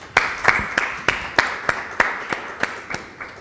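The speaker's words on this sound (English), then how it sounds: "let's give a final round of applause to our speaker" About a dozen sharp audience claps for a lecture speaker in a steady, evenly spaced rhythm, sounding close and sparse rather than like a full crowd.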